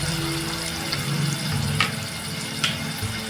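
Curry leaves and green chillies sizzle in hot oil in a pan, a steady crackling fry with a few sharper pops, close and alone without talk.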